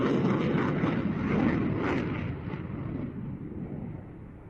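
Hornet jet aircraft performing a small loop just after takeoff at an airshow, heard as a steady, loud broadband engine roar that slowly fades and thins as the jet pulls away, with no voices.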